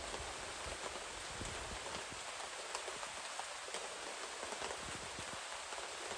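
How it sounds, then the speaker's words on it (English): Steady heavy rain hisses down, with scattered louder drips and taps landing close by, continuous and unbroken throughout. "It is absolutely pouring out."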